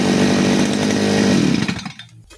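A side-mounted grass cutter's engine revs at high RPM, a loud, close, raspy two-stroke buzz held for over a second before it quickly drops away and fades.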